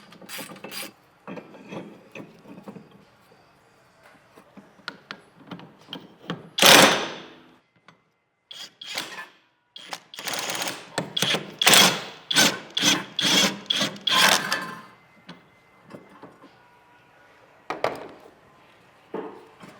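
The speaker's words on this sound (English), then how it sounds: "I'm going to remove this dust shield" A loose, worn brake dust shield is worked off the wheel hub of a BMW E30, with scraping, rattling metal clanks and rubbing in irregular bursts, close up and with no talking.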